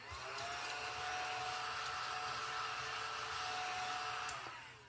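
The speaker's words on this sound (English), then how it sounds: "And then vacuum this off." A small vacuum runs steadily for about five seconds, clearing scratch-off lottery ticket residue, a continuous close whine with a steady motor tone that fades at the end, with no talking.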